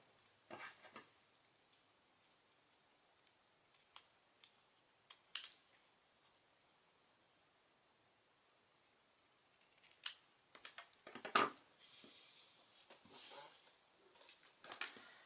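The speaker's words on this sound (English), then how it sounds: "So we'll go ahead and cut the other one." Scissors cut through a paper card piece while making a stamped Easter basket card, sparse snips and crisp paper rustles at first, then a denser run of close, quiet cuts toward the end.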